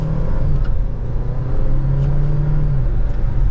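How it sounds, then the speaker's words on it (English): A 2023 Dodge Hornet GT Plus AWD accelerates on the road, its engine note climbing in a steady, moderately loud rumble heard from inside the cabin, with a brief dip and swell of revs and no talk. "let's do another acceleration real quick in the POV"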